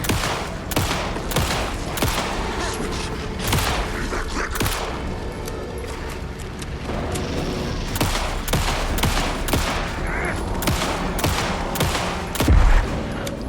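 Rapid, loud bursts of gunfire from the video game Alan Wake 2 keep going almost without pause, with sharp overlapping shots and occasional heavier booms forming a dense, continuous barrage.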